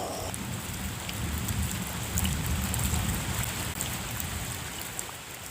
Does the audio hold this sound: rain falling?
yes